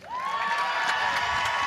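A crowd cheers and applauds the coach at a European cup gold medal team event, with loud, sustained whoops, shouts and clapping close by and no distinct talk.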